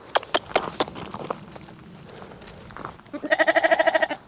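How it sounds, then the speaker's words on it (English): A sheep bleating nearby: one long, wavering, loud bleat near the end, after a stretch of scattered knocks and quieter rustling. "Yeah, don't think the sheep like me."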